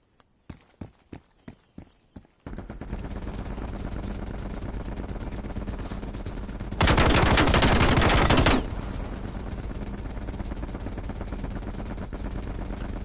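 An automatic gun in Call of Duty fires a full magazine in one long continuous burst of rapid, loud shots, preceded by a few separate clicks and single cracks, with an even harsher stretch in the middle.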